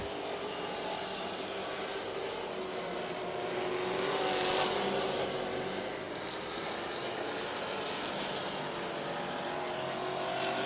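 Limited stock cars run a qualifying hot lap session at a speedway in the evening. A steady, distant roar of engines fills the whole stretch and swells briefly midway through, with no voices over it.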